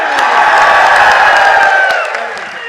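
A large crowd roars and cheers at a political rally in a market town, a loud, continuous wall of voices and whoops that swells and then eases slightly at the end.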